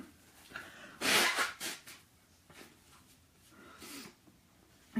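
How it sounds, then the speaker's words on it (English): A person blowing their nose, a sharp loud nasal burst followed by a few shorter snorting puffs and another blow later, close up and without talk. "I'm gonna have to blow my nose"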